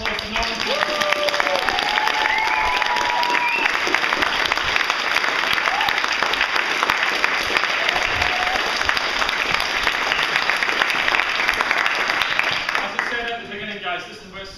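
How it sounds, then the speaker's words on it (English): Sustained applause and cheering from an audience at a youth workers' conference show in Shetland, loud and continuous throughout, with a few vocal whoops over the clapping before it tapers off at the end. "huge round of applause to Northern Focus."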